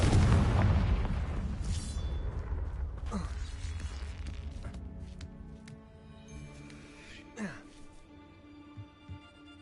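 Confringo blast spell cast in a video game, a loud explosive boom at the start decaying into a long rumbling tail with scattered smaller pops and mechanical sounds later.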